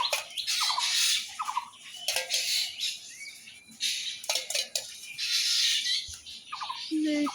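A pair of common mynas squawk and call in harsh, repeated bursts from a rooftop vantage, loud and fairly close, with short pauses between volleys.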